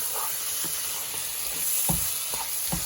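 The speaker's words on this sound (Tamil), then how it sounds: "இப்போ இந்த வாழைப்பூ இதோட சேர்ந்து நல்லா ஃப்ரை ஆகும்" Chopped banana flower frying in a hot pan for biryani, a steady sizzle and hiss with a few soft scrapes and knocks of stirring, close and alone.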